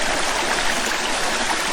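A waterfall in the Coopers Creek area roars steadily as a close, dense wash of rushing water, unbroken and even throughout with no voices.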